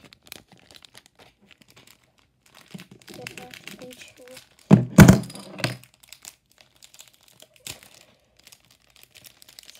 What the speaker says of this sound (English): It takes forever to open these packs up.